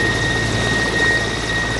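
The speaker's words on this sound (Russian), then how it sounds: "Новый вертолет Ми-8 развивает скорость до 250 км в час." Mi-8 medical helicopter with its steady, loud rotor and turbine roar, continuous and close, no voices.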